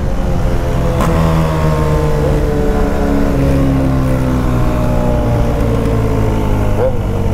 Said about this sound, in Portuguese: Olha os carros descendo, olha a estradinha cheia de som.